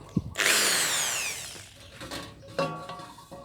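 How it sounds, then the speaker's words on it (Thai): A power drill whines up loudly, its pitch falling as it bites into material, followed by shorter mechanical bursts and rattles. "ทีนี้ก็จะมาทำการเจาะเลยนะครับ"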